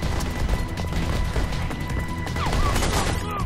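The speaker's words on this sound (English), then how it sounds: "So many bullets." Heavy gunfire in the first-person parkour game Mirror's Edge, a dense, continuous barrage of shots with ricochets and crashes running loud and unbroken throughout.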